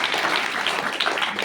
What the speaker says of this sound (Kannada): ಜೋರಾದ ಚಪ್ಪಾಳೆ ಬೇಕು.